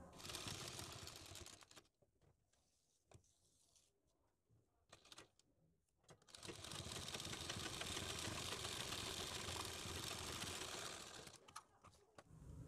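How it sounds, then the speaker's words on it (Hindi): A sewing machine stitches a sleeve pattern in two bursts, a short run at the start and a longer steady whir in the middle, separated by quiet handling noises and clicks. "इसके बाद हमें यहाँ पर सिलाई लगा देनी है"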